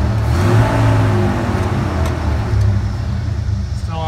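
An EFI Ford 302 5.0 V8 in a Bronco or F-150, still cold on its choke cycle, comes down from a raised speed and settles toward idle, a loud, close rumble easing over four seconds.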